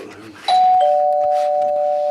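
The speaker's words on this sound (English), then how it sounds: "lovely doorbell." A doorbell chimes once, a clear sustained electronic tone that rings on steadily and slowly fades, with faint room noise before it.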